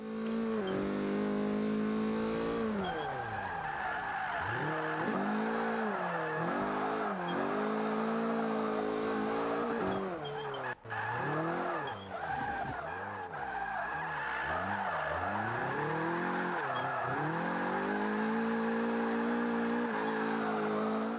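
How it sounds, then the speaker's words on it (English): A Scion tC drifts in the racing video game Forza 5, its engine revving and dropping in repeated swells under long, continuous tire squeal and skidding, loud and steady for about twenty seconds. "Okay, so that's the Scion TC."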